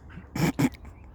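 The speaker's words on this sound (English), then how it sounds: "Daft dog." A dog at a lakeside fishing spot gives two short, moderately loud barks in quick succession against quiet outdoor background.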